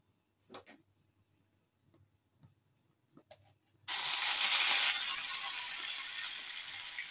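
A few faint clicks and taps, then a sudden loud, bright hiss as butter hits hot oil, settling into a steady sizzle that continues to the end.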